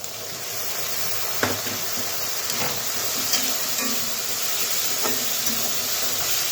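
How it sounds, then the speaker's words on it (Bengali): Small shrimp and onion frying in a pan, a continuous moderate sizzle with a few light stirring clinks scattered through, no voices. "ছোট চিংড়ি দিয়ে দিলাম, পেঁয়াজ দিয়ে ভালো করে কষে নেব"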